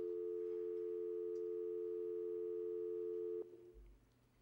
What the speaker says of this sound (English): You have reached my answering machine. Leave a short message after the tone,